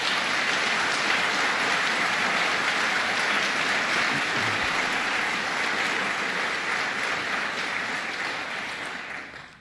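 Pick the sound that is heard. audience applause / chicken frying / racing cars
audience applause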